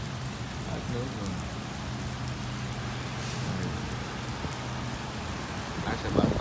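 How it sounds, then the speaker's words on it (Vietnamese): Steady rain falls throughout, a dense hiss of drops on surfaces with a faint low hum beneath and a slight swell near the end. "May mắn có mưa đó, không mưa là không có nước xài nữa"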